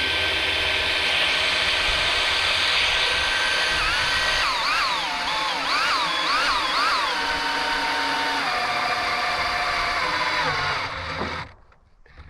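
A power drill drives screws into a wooden foundation post, a loud close motor whir held for about eleven seconds with its pitch wavering and dipping as the screws bite, then cutting off abruptly.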